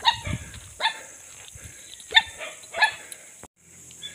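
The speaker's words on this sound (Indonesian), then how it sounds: "Kita disambut gonggongan anjing" Dogs bark near a hillside house on a chilly hilltop in Borneo, with several sharp, loud barks coming at irregular intervals, some yips between them, and a quieter stretch near the end.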